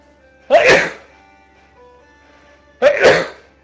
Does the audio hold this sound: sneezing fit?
yes